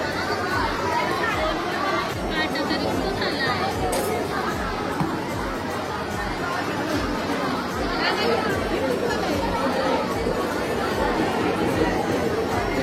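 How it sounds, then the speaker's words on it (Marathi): A busy crowd at Panvel fish market keeps up a dense, continuous babble of overlapping voices, loud and close throughout. "गर्दी बघ किती."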